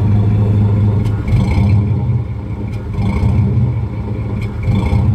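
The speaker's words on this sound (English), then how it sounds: "I can give it less gas, but she wants to die, so I have to rev her for a little bit" A cammed Chevrolet S10 pickup engine rumbles loudly and close by, held at a lumpy, uneven idle with repeated small revs and a few metallic clicks.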